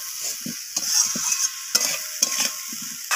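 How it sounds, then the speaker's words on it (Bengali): Potatoes and cauliflower being sautéed in a pan for a bean, potato and cauliflower dish: a steady sizzle with repeated scraping stirs recurring every half second or so, close and fairly loud, no voices. "তো ফুলকপিটা দেওয়ার পর আমি আলুর সাথে এইভাবে ফুলকপিটাকেও কষিয়ে নিচ্ছি।"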